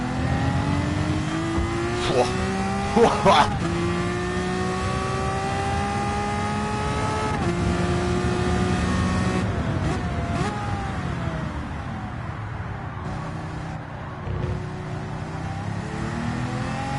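A racing video game car engine held at high revs, droning steadily with rising and falling pitch as the driver fights to keep the revs up through a tight turn, with brief tire noise bursts and a voice talking faintly underneath.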